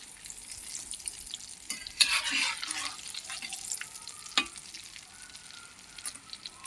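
Snacks frying in hot oil for a teatime batch, with a steady close sizzle and crackle, a burst of louder spattering around the stir, and occasional scraping clicks.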